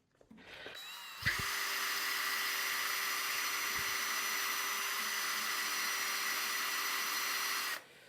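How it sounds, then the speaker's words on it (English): Power sander smoothing rough bodywork on a 1985 Chevy C10 truck, a steady high whine that spins up, holds for several seconds, then stops, close and alone. "I got to go back and sand over all of these areas that are rough"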